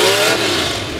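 The Anarchy race car roars past at the Keystone Nationals drag event, a loud, close engine blast that stays at full strength and then tails off slightly as it goes by.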